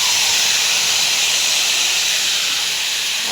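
Water mixed with chilli and turmeric powder hits a hot pan and sizzles: a loud, steady, close hiss of steam that holds evenly throughout, with no voices.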